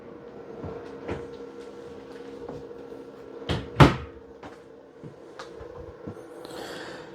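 Deep drawers in a 2024 Salem Villa 40RLB destination trailer sliding and knocking shut, with a few soft clunks and two sharper bangs in the middle against a quiet background hum.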